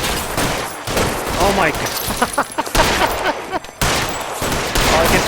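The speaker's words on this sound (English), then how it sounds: "There's certainly gonna be gunfire." Gunfire in the video game L.A. Noire: dense bursts of rapid shots and fusillades, loud and continuous with brief gaps, while a man briefly exclaims over it.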